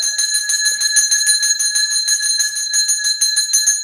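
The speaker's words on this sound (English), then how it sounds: "And then ring the bell." A hand bell rung continuously during puja worship, its bright metallic tones shimmering in a steady rapid rhythm, loud and close with no talking.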